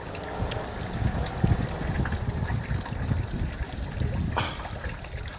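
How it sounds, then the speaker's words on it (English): Water from a fountain runs and trickles steadily outdoors, a continuous close splashing wash with light wind noise and low rumble, no voices. "I love this fountain and I love the sound of the water running down."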